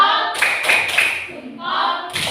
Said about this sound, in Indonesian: Diberi tepuk jempol.